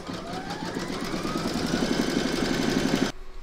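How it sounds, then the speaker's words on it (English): An embroidery machine stitches a round on a square scallop placemat held in a hoop, giving a steady rapid mechanical chatter with a regular pulsing rhythm at close range that runs unbroken for about three seconds, then cuts off abruptly. "Pop your hoop into your machine and stitch round number three to secure it."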